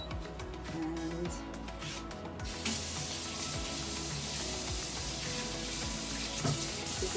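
Water from a kitchen tap runs steadily onto a greasy countertop being rinsed, a continuous close splashing hiss that grows fuller and louder partway through, with small clinks underneath.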